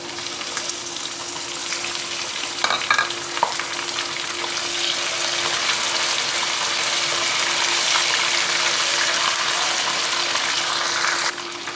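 Steady, loud sizzling of chicken frying in hot oil with golden fried onions, with a couple of brief stirring clinks partway through.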